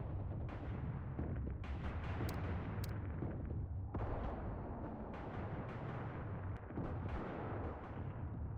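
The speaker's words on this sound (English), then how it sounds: "Mortars here are engaging targets via direct line of sight." Mortar fire in the WWII game Mius Front booms in a dense, continuous barrage of loud blasts and explosions, with sharp reports breaking through a constant rumble.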